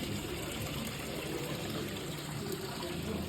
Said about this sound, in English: now you can see the water there running